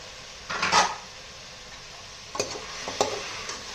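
Boiled chicken and mutton pieces drop into a pan for mixed non-veg biryani, a loud close clatter followed by a few lighter scrapes and taps of a spoon stirring the meat, with no speech.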